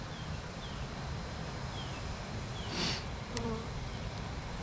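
Honey bees buzz steadily and closely as they draw out comb in the hive, a dense continuous insect hum with a brief louder passing swell near the end.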